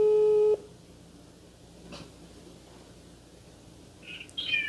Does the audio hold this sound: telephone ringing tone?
yes